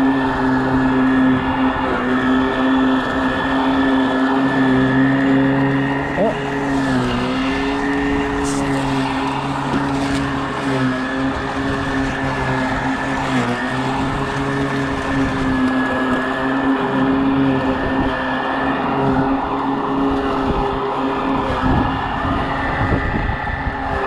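A Greenworks Pro 60-volt 25-inch self-propelled cordless electric mower with a dull blade runs steadily close by, giving a continuous motor whine and blade hum with brief dips as it scalps and bumps along a curb edge.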